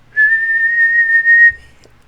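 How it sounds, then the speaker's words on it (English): A single clear whistled note is held steadily for over a second, close and alone, then stops with a small thump. "I tried to whistle"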